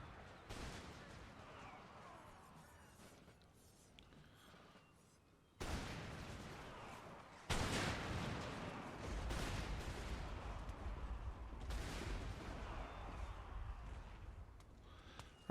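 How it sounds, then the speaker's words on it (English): Cannon and artillery fire in an Empire: Total War battle, heavy booms with sharp onsets followed by sustained rumbling gunfire and a continuous roar of battle. "Ooh, good shooting cannon."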